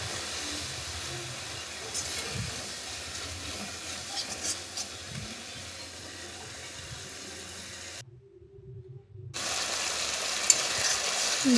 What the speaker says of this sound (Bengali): দিয়ে দিচ্ছি গুলে রাখা মশলাটা। এটা অনবরত নাড়তে হবে, নাহলে নিচে লেগে যাওয়ার ভয় থাকে।